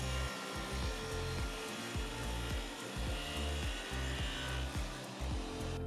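Table saw cutting dado slots across wood panels for shelves, a steady loud whine broken by repeated rhythmic low bursts as each pass is made, with no talking.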